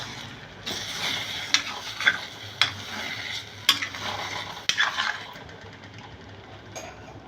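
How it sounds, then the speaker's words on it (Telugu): Beaten egg fries in a pan under a soft sizzle, broken by several sharp clicks and scrapes as a utensil stirs and clears the pan's bottom, each one close and distinct. "ఇలా ఎగ్ని కొట్టి వేసాక కొంచెం అడుగుని క్లియర్ చేసుకుంటూ"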